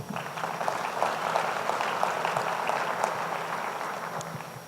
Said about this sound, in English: We should give them a round of applause as well.